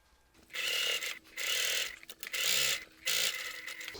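A sewing machine stitches a clutch bag seam in four short bursts of rapid whirring, each separated by a brief pause.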